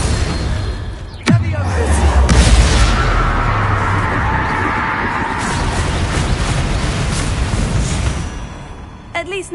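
A Confringo fire spell in Hogwarts Legacy bursts with a sharp bang and a deep rumbling blast, followed by a sustained roaring crackle of flame over several seconds, loud and close.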